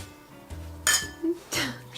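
Glasses clink together in a toast at home, two bright clinks about half a second apart with a third fainter chime, over low background sound.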